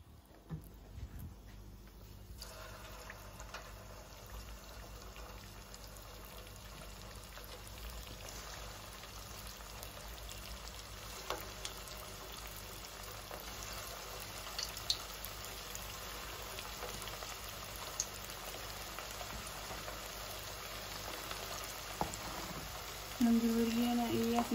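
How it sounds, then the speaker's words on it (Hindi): Manchurian balls frying in refined oil in a kadhai, a steady close bubbling sizzle that runs continuously throughout with small crackles and a few louder pops near the end. "असीं इन्हां नूं फ्राई करांगे"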